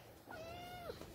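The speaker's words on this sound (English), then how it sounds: "Oh, she said meow." A pet cat gives a single clear meow, rising then holding and falling, close by but soft in a quiet room.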